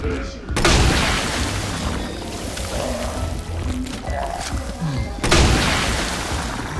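Grenade launcher rounds burst in Resident Evil 2 with loud, booming blasts, one at the start and another near the end, over a dense, noisy backdrop while someone talks.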